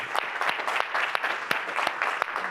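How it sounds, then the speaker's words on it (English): A modest audience at a GraphQL community tech event gives a round of applause, scattered individual claps standing out sharply over a softer patter, fairly close and unaccompanied by talk. "Let's give a big round of applause to Apollo, to all the community, GraphQL community, for hosting this amazing event."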